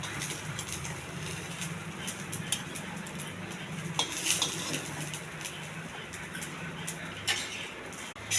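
Coriander leaves fry in a pan while a utensil stirs and scrapes against the metal, a steady close sizzle broken by intermittent clinks and scraping.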